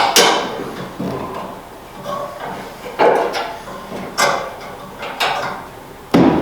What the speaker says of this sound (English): Take the C-clamp off.